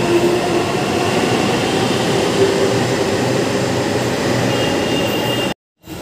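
A steady, loud rumble of a Delhi Metro train arriving alongside an elevated platform, with faint wheel squeal, cutting off abruptly near the end.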